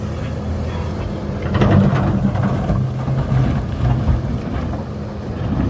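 A Sany SY500H 50-ton excavator with a 6WG1 engine runs under load while digging weathered hard rock, giving a loud, dense rumble that swells and eases slightly as it works.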